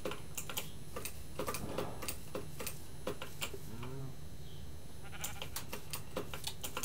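Sheep bleating in Minecraft, a few short game bleats near the middle amid repeated sharp clicking ticks from gameplay, fairly quiet overall.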